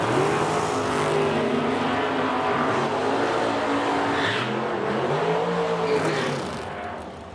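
A Buick and a 1964 Corvette launching in a drag race at an Edmonton dragstrip, engines roaring loudly with rising and falling revs as the cars accelerate away, fading slightly toward the end.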